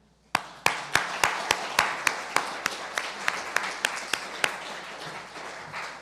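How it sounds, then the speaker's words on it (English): Slow, sharp claps ring out one by one in a church service, about a dozen evenly spaced loud hits over a softer background patter of other hands applauding. "let's give a round of applause and a huge thank you to Kevin Palmer and Finn Palmer."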